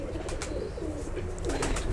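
Pigeons in a loft, including Ferozpuri and Rampuri breeds, coo softly in low repeated throaty bursts, with a few brief wing or rustling sounds over a quiet background.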